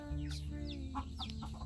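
Chickens cluck and murmur nearby in short repeated calls, with a low steady hum underneath.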